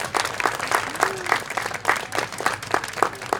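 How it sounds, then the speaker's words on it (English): Applause at the Miss Teen Avenal 2018 pageant, an audience clapping in a steady rhythm of distinct claps that carries on evenly, with faint crowd murmur beneath. "So if we can please give them applause too for helping out."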